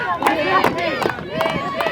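A wrestling crowd of Mickie James fans in her hometown near Richmond, Virginia, cheering and shouting loudly as a dense roar of voices under a commentator's excited talk.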